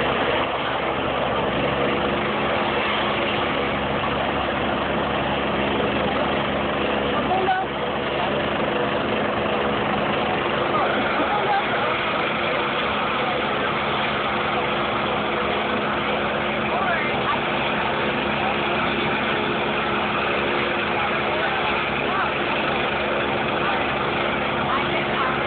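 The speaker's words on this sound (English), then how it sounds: "The pilot's revving up the engine." An aircraft engine on a medical flight runs steadily and loud for the whole stretch, a continuous droning rumble with little change in pitch and no clear rise.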